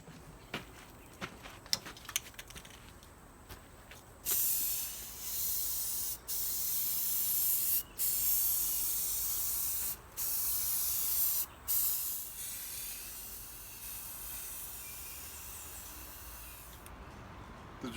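Primer spray-painted onto a giant backyard chalkboard: several long hissing aerosol bursts in a row, each several seconds long with short gaps between, close and steady, no talking.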